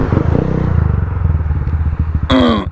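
A motorcycle rumbles loudly and close throughout a ride, its engine pulsing in a steady low throb, with a brief sharp high-pitched squeal near the end.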